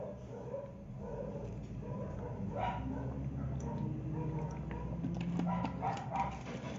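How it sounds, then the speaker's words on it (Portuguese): A small female dog yips and barks intermittently in the background of a home live stream, faint and partly buried under room noise. "se vocês estiverem ouvindo barulho de dog no fundo, é minha cachorrinha latindo"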